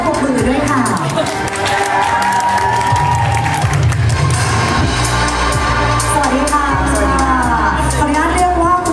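An audience at a product launch event claps and cheers as a guest comes onto the stage, a dense, loud wash of applause with a voice speaking over it.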